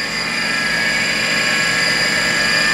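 A Fadal 5020 CNC machining center's spindle running at 2,500 RPM gives a steady, continuous whine with several sustained tones over a low mechanical hum. No one speaks.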